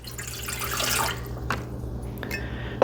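Warm water poured into a bread machine pan, a soft continuous splashing stream that builds and then trails off into a few drips.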